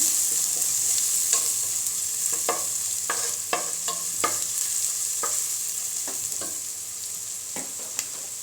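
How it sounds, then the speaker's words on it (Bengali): Spices and turmeric fry in a pan for a prawn and water spinach curry, giving a bright steady sizzle with scattered clinks and scrapes of stirring, close up and without talk. "এগুলো আমি খুব ভালোভাবে একটু ভুনে নিচ্ছি, যাতে মশলার যে গন্ধ আছে সেটা খুব ভালোভাবে চলে যায়।"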